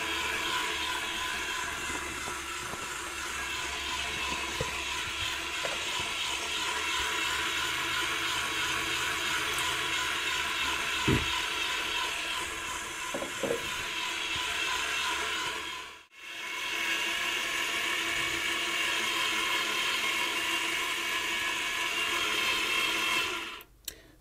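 A bread machine paddle turns slowly through dough in a steady, whirring mechanical hum with occasional clicks and knocks, briefly cutting out before resuming at the same even drone.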